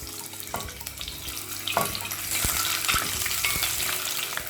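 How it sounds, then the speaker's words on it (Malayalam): Eggs added one by one to hot oil in a pan for egg Mughlai fry with a close, steady sizzle, joined by intermittent stirring knocks and a running-water wash, with no talking. "1 മിനിറ്റ് നേരം ഇതിലിട്ടിട്ടൊന്ന് ഫ്രൈ ചെയ്തെടുക്കണം"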